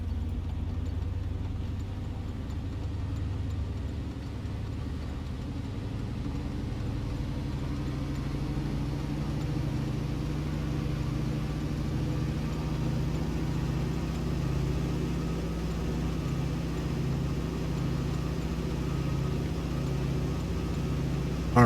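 The engine of a DHC-2 Beaver aircraft in Microsoft Flight Simulator 2020 holds a steady, droning run-up to about 1800 RPM, a continuous low rumble that rises slightly in pitch early on and then stays even throughout, with no voices.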